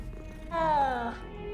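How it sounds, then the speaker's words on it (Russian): A cat in the Hogwarts Legacy game purrs and gives a short rising-and-falling vocal rumble as it is petted, close and fairly loud, with no talking. "Кота можно погладить."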